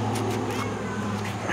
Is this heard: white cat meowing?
yes